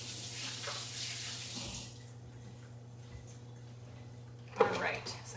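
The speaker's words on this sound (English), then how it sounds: "I'm going to rinse off my hands" Hands are rinsed under a running kitchen tap: a steady rush of water for about two seconds, then it stops, leaving a quiet room with a brief clatter near the end.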